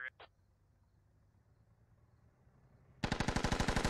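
Automatic gunfire from the video game Squad rips out in a rapid, loud burst near the end after a quiet stretch, preceded by brief short noises at the start.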